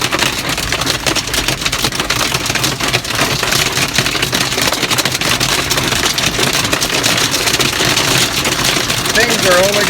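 A storm pounds with dense hail or heavy precipitation, a loud, continuous crackling roar filling the whole stretch, with a faint voice near the end.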